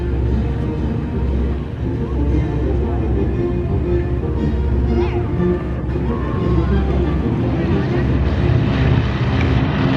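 Airshow planes make a formation takeoff at the Flying Circus Airshow in Bealeton, a loud sustained engine roar with wind buffeting over ten seconds and voices faintly underneath.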